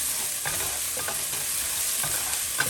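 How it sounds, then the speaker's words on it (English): Garlic and ginger fry with green peppers in a non-stick pan, a soft continuous sizzle broken by light, irregular scrapes of stirring, close and fairly quiet with no voices. "I'm going to get our garlic and ginger. And we're going to stir this up."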